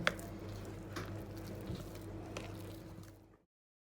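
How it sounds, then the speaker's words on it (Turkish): Cookie dough for Turkish ash cookies (küllü kurabiye) being kneaded by hand, giving soft, close squishing and sticky patting sounds in a steady run against a low background hum, then stopping abruptly. "Daha sonra elimle yoğuracağım"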